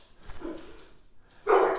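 Indoor dogs reacting to a package delivery give a short bark early on, then a louder, sustained burst of barking near the end.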